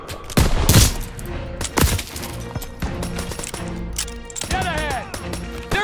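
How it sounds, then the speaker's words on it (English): Rapid machine-gun bursts and heavy gunfire crackle through a Call of Duty stronghold battle, loud and dense with sharp impacts and clatter, while shouted game dialogue rides over the fighting. "Come on, they need cover fire! Suppressive fire! Keep firing!"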